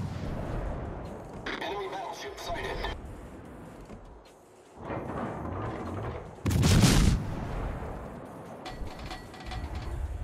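Naval guns fire in the World of Warships game as light cruiser Helena battles, heavy booming salvos including one loud close blast midway, with mechanical clatter and continuous battle noise throughout.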